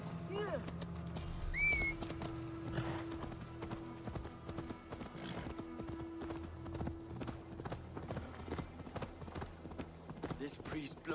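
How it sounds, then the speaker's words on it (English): Steady clip-clop of a horse's hooves in the video game Assassin's Creed Valhalla, a quiet even rhythm continuing throughout beneath game music and a brief high whistle-like tone. "I meant to ride my own damn horse, not yours."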